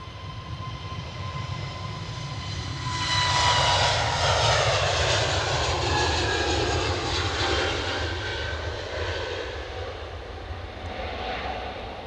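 A Boeing 737-800 jet on a positioning flight roars past at Edinburgh Airport on a windy day, its engine noise swelling loud midway and then holding a broad, steady rumble with a whining tone.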